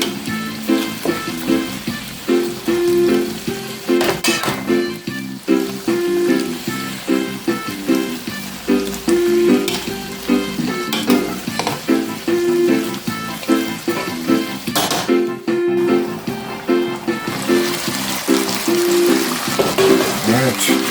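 Chicken chop suey stir-frying in a pan gives a loud, continuous crackling sizzle with a rhythmic pulsing texture and occasional sharper bursts as the food is tossed.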